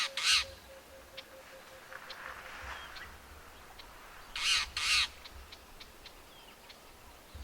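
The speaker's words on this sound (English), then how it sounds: "The birds are making quite a lot of alarm here." Birds near a cheetah's kill of a lamb in the Manyeleti reserve give harsh alarm calls. A single call comes first, then after a pause a pair of loud, close squawks rise over a low, steady outdoor hum.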